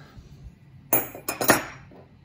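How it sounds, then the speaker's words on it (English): Steel jaws for double-long horseshoe work clank into a vise, a few sharp metallic knocks and clinks close by with no talking. "And then you're gonna put them in the vise."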